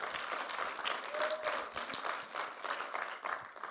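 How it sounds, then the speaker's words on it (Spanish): A church congregation applauding, a moderate crowd of hands clapping in a continuous patter with slight swells, somewhat soft and roomy. "si esto no merece un aplauso al Rey"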